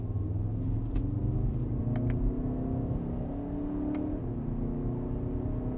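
A 2019 Skoda Kodiaq vRS revs with an artificial, synthesized engine note, a steady low rumble with rising and falling harmonic tones that shift in pitch, heard from inside the car with no talking.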